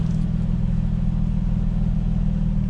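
An Infiniti G35 sedan engine idles just after a plenum spacer install, a steady low rumble with a fine, even firing pulse, close and alone with no talk.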